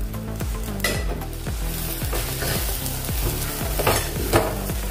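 Coarsely crushed ginger-garlic paste sizzles steadily in oil in a pan while a spoon stirs and scrapes in repeated strokes, close by with no talking.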